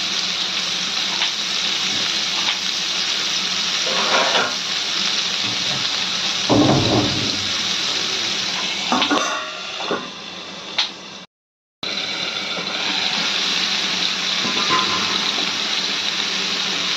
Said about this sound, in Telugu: చూడండి, ఇలా వేగిపోతున్నాయి కదా